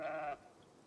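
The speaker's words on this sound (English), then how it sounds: "Sounds like a sheep." A sheep bleats once in a video game, a short, clear, fairly faint call that cuts off abruptly into quiet.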